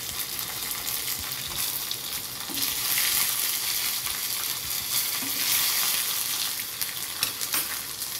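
Curry leaves crackle and sizzle in hot oil for tomato chutney, a continuous close frying hiss that swells midway, with occasional soft pops.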